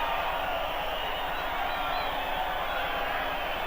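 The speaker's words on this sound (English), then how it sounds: "Very appreciative crowd here once again." A rugby league crowd at a 1988 tour match between Western Division and Great Britain gives a continuous, distant roar of cheering and applause after a try.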